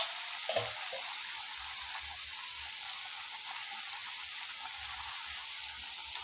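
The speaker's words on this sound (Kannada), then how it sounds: "ಇದು ಒಂದು ಕಡೆ ನೀಟಾಗಿ ಫ್ರೈ ಆಗಲಿ ಸಣ್ಣ ಉರಿಯಲ್ಲಿ" Masala chakli frying in oil on a low flame gives a steady, soft, even sizzle that holds without a break and has no talking over it.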